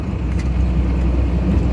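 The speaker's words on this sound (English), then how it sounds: "I'll keep the engine brake on" A steel-carrying truck driving downhill on the B6451 road near Darley with its engine brake on, a loud continuous low rumble and road roar heard from inside the cab, with no talk.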